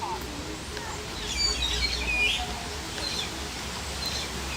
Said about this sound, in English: Let's see some birds over here.